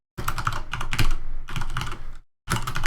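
Rapid typing on a computer keyboard, dense bursts of clicking keystrokes close to the microphone, in three runs separated by brief pauses.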